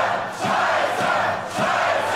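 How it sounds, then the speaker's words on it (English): Arena crowd at a GWF Legacy 2018 professional wrestling match between John Klinger and Pascal Spalter, a steady wash of cheering and shouting that swells twice, close and loud with no clear talk. "There's some support for Spalter here as well as for Klinger."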